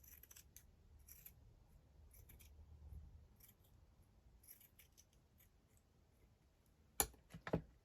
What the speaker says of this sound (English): Just going to cut that down. Just then snip this down here.